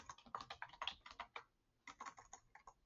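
Typing on a computer keyboard with quick bursts of key clicks, a short pause, then another run of taps. Quiet and close, with no talking.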